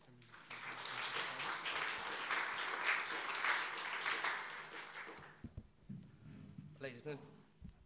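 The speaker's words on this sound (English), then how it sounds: "A round of applause for everyone, please" Audience applause for panel speakers at a conference session, moderate and sustained for about five seconds, then fading into a few scattered claps and a brief voice.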